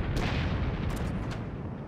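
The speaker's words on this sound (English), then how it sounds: "Yeah, you have shots coming in at you." Incoming shell fire in the World of Warships naval game makes a dense, continuous rumbling roar of booms and blasts, loud and unbroken, with a few brighter cracks near the middle.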